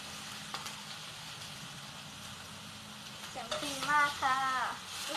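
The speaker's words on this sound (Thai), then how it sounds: "ใช่มันเหมือนกุ้งกำลังทอด หรือว่ามันเป็นกลิ่นของน้ำมันอีกหรอ แล้วฟังเสียงสิ" Steady sizzling and stirring of crab stir-frying in hot oil with curry powder. Faint voices talk over it, and a brief whistly squeal rises near the end.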